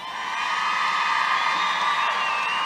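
A large crowd at a Make America Great Again rally in Prescott, Arizona cheers and whoops in a sustained, swelling roar of many voices, loud and continuous.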